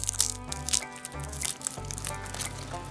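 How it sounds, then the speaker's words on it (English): A knife blade comes down to smash a garlic clove, making a few short, close crushing cracks against a steady background hum. "I'm just going to take the blade of my knife, give it a quick smash"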